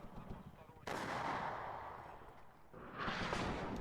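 Paired 105mm artillery firing in the war strategy game WARNO, heavy booming blasts that swell and roll on in a long low rumble, one after another, loud and close.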